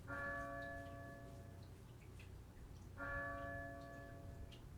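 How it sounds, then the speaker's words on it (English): A church bell tolls in a horror video game, two loud ringing strikes about three seconds apart, each with a long ringing decay over a steady low rumble. "The sound seemed like one of those old church bells that ring in European cathedrals."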